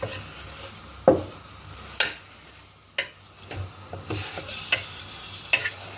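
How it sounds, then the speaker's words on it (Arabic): Chicken frying lightly in a pan of oil, with a soft steady sizzle broken by a few sharp stirring clacks and utensil taps spread through the stretch. "غادي باش نديرو الدجاج ديالنا شويه، يعني نقليوه واحد شي شويه ماشي بزاف."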